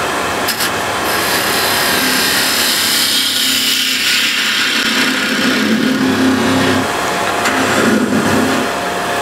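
A 10 mm spindle gouge cuts into a spinning wood blank on a lathe, giving a loud continuous motor drone with a rough, scraping cutting texture that rises and eases as the tool works.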